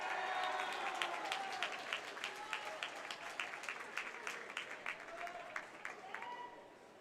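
Crowd cheering and clapping at a boys' varsity swim meet between Moorhead and Fargo North as a swimmer comes in to finish; dense sustained applause and shouts with sharp claps throughout, loud and echoing in an indoor pool.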